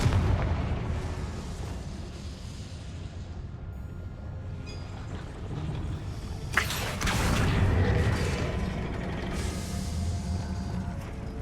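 Confringo blasting spell cast in the game Hogwarts Legacy: a sharp explosive burst around the middle, followed by a rumbling, crackling roar of fiery debris over a steady low background of game ambience.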